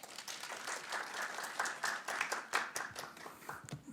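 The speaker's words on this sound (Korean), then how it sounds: "박수로 정도진 교수님 환영해 주십시오." Audience applause at a public-sector social value policy forum, many hands clapping steadily for about four seconds as a presenter is welcomed, fairly quiet and even throughout.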